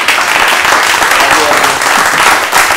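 Applause fills a municipal council meeting in Mougins, a steady, dense wash of clapping from the room lasting the whole moment without a break.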